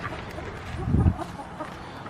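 Backyard chickens cluck softly, with a brief fuller burst of fowl chatter in the middle over a low outdoor hum.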